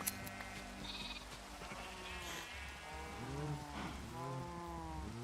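Sheep in the video game Minecraft bleat repeatedly over a busy, noisy background, several wavering calls overlapping, some nearer and louder than others.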